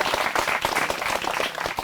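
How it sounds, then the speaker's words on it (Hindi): A studio audience at a farmers' question-and-answer program in Lucknow claps loudly and steadily. Many hands make a dense applause that stays even throughout, with no voices over it. "चाहूंगा एक बार जोरदार तालियां बजाकर शुक्रिया कहा जाए हमारे विशेषज्ञों को"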